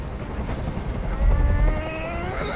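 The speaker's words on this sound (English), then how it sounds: "I can't stand that noise anymore. Tell that helicopter to get out of here." A helicopter hovers overhead in the video game Detroit: Become Human, a low rumbling rotor drone with a muffled throb, steady under faint tonal background sounds.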